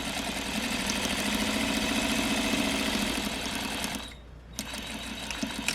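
A sewing machine runs steadily while backstitching a flat fell seam. The hum is loud and continuous, with a brief pause near the end before the stitching starts again.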